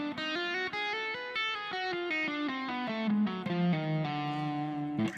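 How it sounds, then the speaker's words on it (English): Clean, effect-tinged electric guitar running a D half-whole diminished scale, a quick stepwise run of distinct sustained notes descending and ending on a held low note, alone and fairly loud. "play a D half whole diminished scale"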